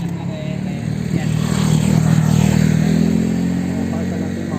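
A Harley-Davidson Low Rider ST motorcycle at a Harley-Davidson dealership in Cavite rumbles close by with a deep, steady engine note that swells through a rev and eases back, with faint voices nearby.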